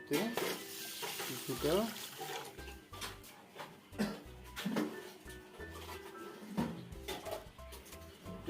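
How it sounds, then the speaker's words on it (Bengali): Rice grains soaked in a dish of water and worked by hand, giving close, irregular wet swishes and soft gritty rustles over about eight seconds, with a faint background hum. "কিছুটা জল অ্যাড করে দিয়ে চালটাকে ভিজিয়ে একটু ভালো করে হাত দিয়ে নেড়ে"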